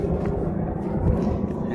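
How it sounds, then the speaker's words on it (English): Planes pass overhead, a low, steady roaring rumble that stays loud and unbroken throughout this short stretch outdoors. "Planes flying over."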